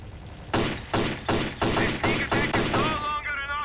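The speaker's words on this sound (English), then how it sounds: "Already shooting at you." Enemy gunfire in the shooter S.T.A.L.K.E.R.: Clear Sky, a run of about eight sharp, loud shots in an even, rapid rhythm, followed by a brief warbling electronic tone as the firing stops.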